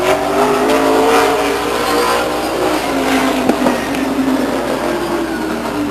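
A late model stock car laps Stockton 99 Speedway, its engine droning loud and steady with a passing roar, mixed with an announcer's voice over the track.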